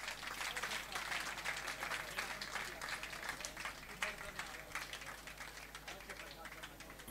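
A crowd at a cycling awards ceremony applauds continuously, a dense crackle of many hands that holds steady at moderate loudness with a slight sense of distance and no pauses.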